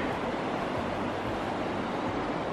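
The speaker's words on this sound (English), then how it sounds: "There's the Gallatin River." The Gallatin River in wintry Big Sky, Montana, flows as a steady, broadband rush of water that stays even and unbroken throughout, with no voices heard.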